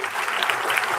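A school audience at an English recitation and debate fiesta claps for a student, a dense, steady burst of applause filling the room.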